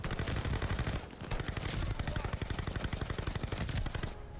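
Marco 5 SMG firing in a Call of Duty game, rapid automatic bursts of close gunfire in a fast steady rhythm with brief pauses between strings of shots.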